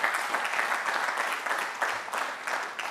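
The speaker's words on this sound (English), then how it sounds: "y'all ought to give her a round of applause" An audience at a university commencement applauds in a dense, continuous patter of clapping that holds steady throughout.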